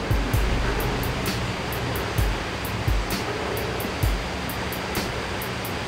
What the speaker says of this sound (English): There's got to be a river around here somewhere.